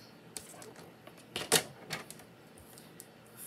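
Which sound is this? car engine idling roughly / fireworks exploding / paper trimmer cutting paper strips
paper trimmer cutting paper strips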